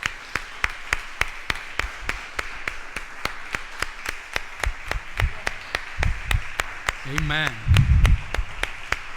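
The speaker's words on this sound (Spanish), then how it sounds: "Me gustaría darle un aplauso al Señor Jesucristo." Steady, evenly spaced claps ring out in a church congregation, keeping a regular beat for several seconds beneath voices, with a spoken response near the end.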